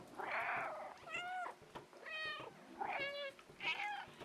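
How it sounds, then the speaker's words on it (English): A cat meows over and over in the video game Stray, with about four drawn-out, insistent calls in close succession, each rising and falling, clear and near, with no talk. "I'm gonna meow at him in anger as he walks."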